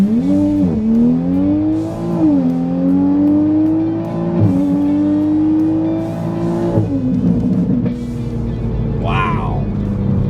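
A tuned 2020 Toyota Supra with a B58 engine and EcuTek tune accelerates hard from a standstill on a rough road, its engine climbing in pitch through several quick upshifts, loud and close from inside the car with brief talk.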